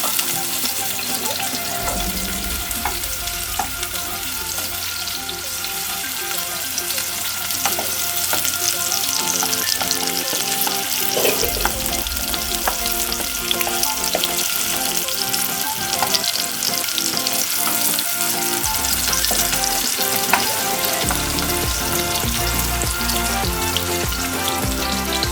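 Onions frying in a pan for a Kenyan-style egg stew, with a loud, continuous sizzle and crackle and repeated stirring scrapes close by throughout.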